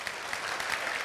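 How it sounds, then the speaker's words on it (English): An audience at a kids' programme applauds the parents, a dense and steady wash of clapping that holds at an even level for about a second with no voices above it. "A round of applause for our parents."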